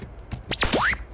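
A synthesized tone sweeps through a frequency shifter for a trap track, rising and falling in two swooping arcs like a radio dial being turned, loud and alone after brief clicks.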